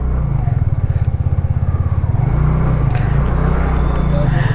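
Motorcycle engine running steadily at a low throbbing idle as the rider prepares to leave on a Sunday morning ride, loud and close throughout with a slight rise in pitch partway through.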